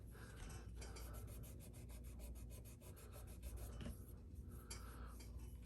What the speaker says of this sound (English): I'm gonna take this Scotch-Brite and kind of clean it off since it's a satin neck.